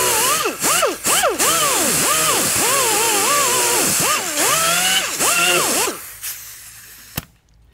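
A power tool whines and cuts into the front end of a 1964 Corvette C2, its pitch rising and sagging in repeated strokes under load before it cuts off and a single sharp knock follows near the end.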